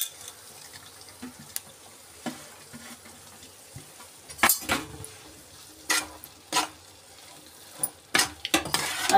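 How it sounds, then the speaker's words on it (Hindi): Potatoes stirred into a spice mixture in a pan for homemade aloo patti, with soft background sizzle and several sharp scraping clinks of a spoon against the pan, irregularly spaced and louder toward the end. "अब इसको मिला देते सही से मसाले के अंदर आलू को"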